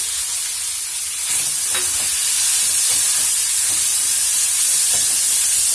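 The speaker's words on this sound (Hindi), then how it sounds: "तो ऑयल हमारा गर्म हो चुका है फ्रेंड्स। जीरा और सूखी लाल मिर्च हो गया है। मैं इसमें प्याज ऐड कर रही हूँ।" Onions dropped into hot oil with cumin seeds and dried red chilies give a steady, loud sizzling hiss close by, holding even and bright throughout with no talking.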